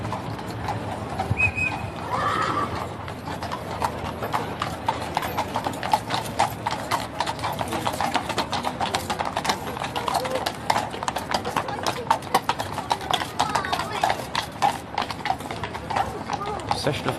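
Horses of the King's guard clip-clop along a street at Horse Guards in London, a steady rapid patter of hooves on pavement with an occasional whinny, heard alongside background chatter and talk.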